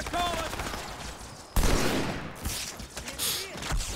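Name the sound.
gunfire in Halo 2 video game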